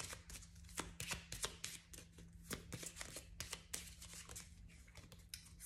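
Oracle cards are shuffled close by in a quiet room, a steady run of soft papery riffles and taps with sharper slaps scattered through, and no one speaking.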